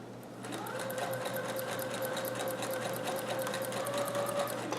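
A domestic sewing machine stitches a Hawaiian shirt from a Simplicity 3852 pattern, starting after a brief pause and then running in a fast, even mechanical whir with rapid needle ticks, close and steady, with no talking.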